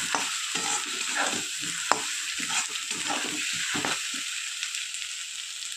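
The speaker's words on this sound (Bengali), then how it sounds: "টমেটোটা দিয়ে দিলাম। দিয়ে এবার খুব ভালো করে কষিয়ে নেব।" Tomato sautéing in a pan for a cabbage and rohu fish head ghonto, with steady sizzling and repeated stirring scrapes throughout, one sharp clink near the middle.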